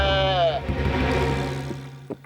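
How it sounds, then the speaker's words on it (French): A cartoon sheep gives a long, wavering bleat, loud and close, that trails off into busy background music and a brief voice. "Le mouton! Bé, bé"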